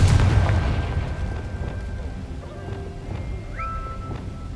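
An explosive Confringo spell goes off in Hogwarts Legacy, a low boom at the start that trails off into a rumbling tail, with faint game effects after it.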